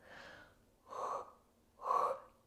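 Deep breaths during a mat Pilates session: three soft airy breath sounds about a second apart, the last two louder and fuller, close and with no talking.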